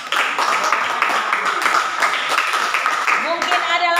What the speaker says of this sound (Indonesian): Kita berikan tepuk tangan untuk teman kita.